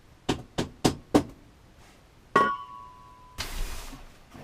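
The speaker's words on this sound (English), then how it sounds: "We should be able to get it out now with the inertia puller." An inertia bullet puller strikes four times in steady succession, sharp close knocks while working stuck ammunition that had soaked nine months in saltwater, then one heavier ringing clang with a metallic tone, then broadband scraping noise.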